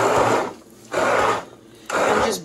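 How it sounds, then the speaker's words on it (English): Immersion blender pulsing through pizza sauce, three loud whirring bursts of about a second each with brief dips between, close and without talk. "Then, take the immersion blender."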